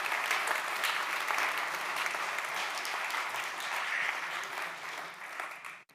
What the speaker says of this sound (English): They can hear us when we give them a little round of applause.